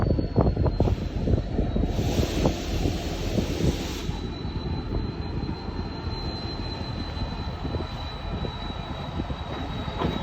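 A train locomotive engine rumbles steadily as it moves slowly through a train yard, with a high squealing tone and a burst of hiss early on, fairly loud and without talk.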